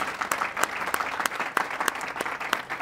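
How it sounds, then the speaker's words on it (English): A lecture audience applauds steadily, a dense wash of many hands clapping at once, moderately loud and continuous with no speech over it. "Can we give a round of applause?"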